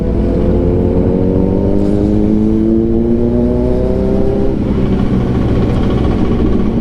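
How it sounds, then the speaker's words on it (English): Cars doing wheel spins on a London street at night: a steady engine drone whose pitch climbs as the revs rise over several seconds, then dips and drops back into a broad roar. "these guys are putting wheel spins"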